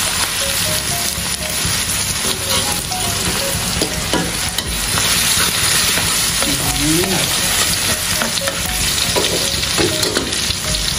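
Garlic frying and being stirred in a pan while making chicken liver spread, a steady loud sizzle with scraping stir strokes throughout.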